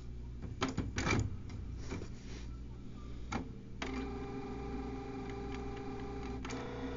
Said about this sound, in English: Show you how fast this thing prints.